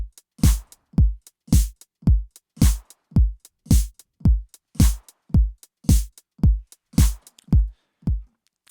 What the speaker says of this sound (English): So the drums on their own sound like this.